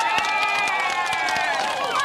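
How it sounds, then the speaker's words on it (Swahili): A large crowd at a Kenyan political rally claps, cheers and shouts in a loud, continuous roar, with scattered sharp claps and whistle-like calls through the whole stretch. "Hebu mpige hiyo makofi."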